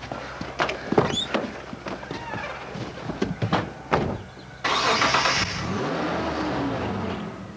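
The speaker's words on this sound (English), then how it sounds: "I heard my car start up and I could see that he was reversing out." A car engine starts and revs as the vehicle reverses out of a driveway past gates, preceded by scattered knocks and shuffling, then a steady engine drone that holds to the end.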